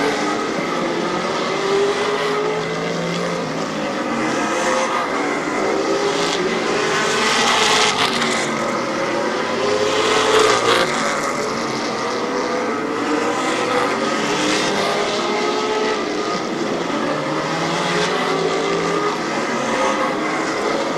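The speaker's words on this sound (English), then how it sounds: "He sees that 87 of Mazzagatti, that crate engine car closing quickly." Race cars at Barberton Raceway Park roar around the track in a sustained loud engine drone that rises and swells as cars pass, including a crate engine car, with no talking.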